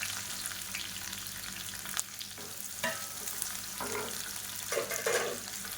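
Finely chopped onions sizzle and crackle in a pan while being stirred for a brinjal thokku, with steady close frying noise and occasional scraping clinks of a spoon.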